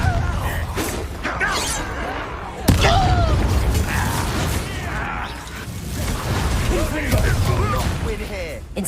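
Bombarda blasting spell in Hogwarts Legacy combat, a sharp booming impact partway through amid ongoing battle noise, whooshes and clatter, with voices talking over the fight.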